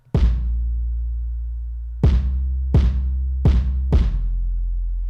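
Five deep, booming 808 bass hits with a punchy kick at the front of each, the low tone sustaining and slowly fading between irregularly spaced strikes.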